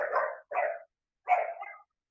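A dog barks close by in a home during an online webinar: three short, loud barks, two quick ones and then a longer one after a pause, with no talking over them.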